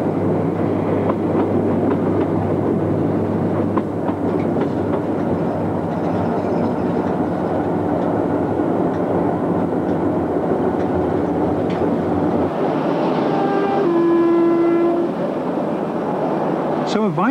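A train rumbles along the track with a steady low drone, then slows with a brief squeal of wheels as a voice talks over it.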